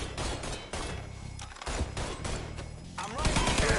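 Gunfire volley in the video game Mafia 3: dense, sustained bursts of rapid shots and thumps pounding continuously for several seconds, loud and close, with no clear talk.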